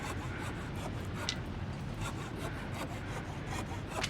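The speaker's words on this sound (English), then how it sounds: "We'll use the hacksaw instead." A hacksaw cutting in The Long Dark video game, a steady stream of rasping, scraping strokes running continuously at close range with no voices.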